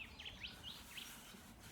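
Birds chirp faintly in short bursts by the water among trees, several quick tweets early on that fade into a quiet outdoor background.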